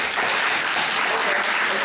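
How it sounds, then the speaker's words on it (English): A live audience claps together in a sustained burst of applause answering a clapping poll, dense and steady for the whole stretch with no pauses. "clap if you liked it being on a Friday night"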